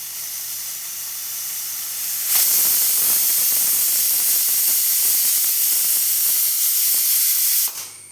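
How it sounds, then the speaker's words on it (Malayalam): Pressure cooker on the stove cooking lentil curry, its whistle releasing steam as a loud, steady hiss that starts abruptly and runs for about five seconds before cutting off, with no talk. "ഇതാ മൂന്നാമത്തെ വിസിലും വരാൻ പോകുന്നുണ്ട്"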